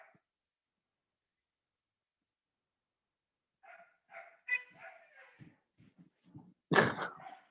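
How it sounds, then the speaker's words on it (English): Dogs barking and making noise in the evening: after a few seconds of near silence, a run of uneven barks, yips and snorts builds, ending in one loud, close burst. "the dogs are kicking off basically this evening"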